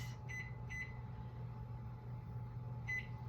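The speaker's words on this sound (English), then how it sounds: "I'm going to set my timer for 30 minutes" An oven timer beeps while being set in a home kitchen during einkorn bread baking: two short electronic beeps close together, a pause, then a third, over a steady low hum of appliance noise.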